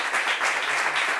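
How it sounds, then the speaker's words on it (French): A brief burst of applause from a small group at a gathering, close and lively, lasting just over a second. "On applaudit."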